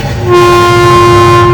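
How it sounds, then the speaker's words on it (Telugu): A train moving slowly sounds a loud, sustained horn blast that comes in sharply and holds steady, with the low rumble of the train running underneath. "రైలు మెల్లగా వెళ్ళింది."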